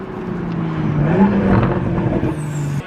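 A 2021 Toyota Supra with an aftermarket downpipe exhaust revs loudly and downshifts, its engine drone rising and dipping close by before cutting off sharply.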